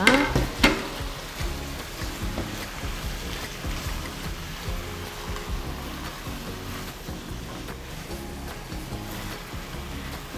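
Cheongyang chili peppers hit a pan of shrimp stir-fried noodles and sizzle steadily, with a couple of sharp clatters at the start and a continuous frying hiss with light stirring scrapes.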